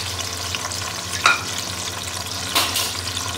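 Stuffed ridge gourds (tinda) sizzle steadily in a hot oiled pan, with a constant frying hiss and two brief louder crackling bursts as pieces are added.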